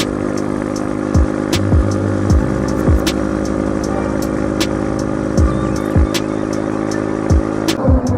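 An Icebear Champion 125 CT70 clone motorcycle with new rear shocks ridden fast on an open road, a loud close engine drone with repeated rising and falling revs as gears shift.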